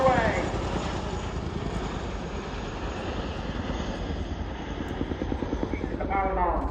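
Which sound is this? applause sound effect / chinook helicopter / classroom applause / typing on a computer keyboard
chinook helicopter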